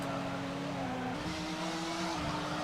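Race car engine in the SEGA Touring Car video game holding high revs in fifth gear, a steady loud droning whine that shifts pitch slightly midway, with continuous tire and road noise and no talk.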